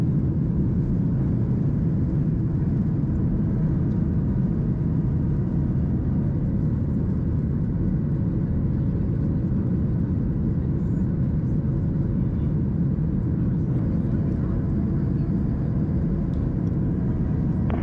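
A Frontier airliner's engines roar steadily during its takeoff roll from a Chicago Midway runway at sunrise, a loud, continuous low rumble heard from inside the cabin throughout, with no voices.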